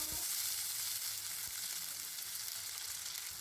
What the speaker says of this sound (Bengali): টমেটোগুলোকে পেঁয়াজের সাথে তেলের মধ্যে কিছুক্ষণ নেড়ে চেড়ে